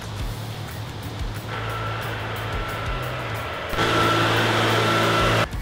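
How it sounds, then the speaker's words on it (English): A leaf blower engine drones steadily throughout, a continuous whining roar that grows louder partway through, then cuts off near the end. "Today I'm listening to a leaf blower soundtrack."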